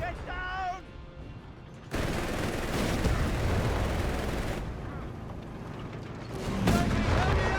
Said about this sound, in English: We got the tank laying down heavy fire.